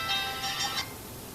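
A phone ringtone sounds for an incoming call during an interview in Kenya, a bright, repeating electronic melody that is moderately loud and heard alone, swelling in a few short pulses before fading.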